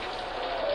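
Steady rain falls as a dense, even hiss of drops on a surface, moderately quiet and continuous through the short stretch of a radio horror drama scene.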